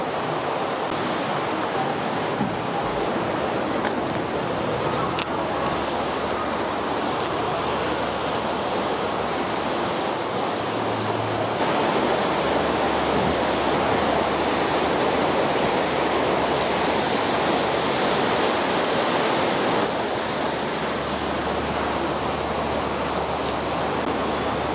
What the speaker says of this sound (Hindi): नीचे से भागीरथी नदी, रोरिंग भागीरथी नदी